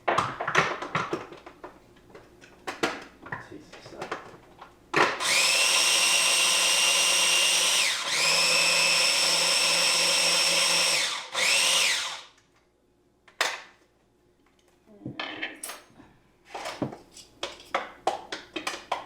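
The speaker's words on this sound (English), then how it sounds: "I am just going to go ahead and put this in the food processor, and we'll have vegan Parmesan cheese" Food processor blending vegan Parmesan cheese, a loud close whir running steadily for about six seconds with a brief dip midway, followed by short bursts and clatter.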